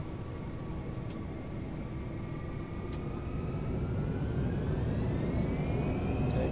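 Jet airliner engines roaring through the takeoff roll, a loud broadband rumble with a rising whine that climbs steadily in pitch as thrust builds.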